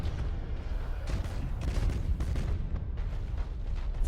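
Heavy warship weapon fire from the video game Battlefleet Gothic: Armada, deep booming blasts and rumbling explosions rolling over one another in a continuous, low, moderately loud barrage.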